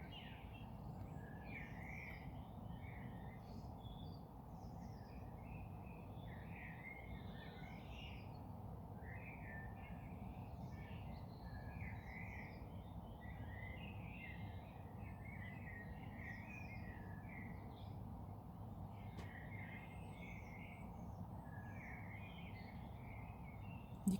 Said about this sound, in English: the birds are a lot more active now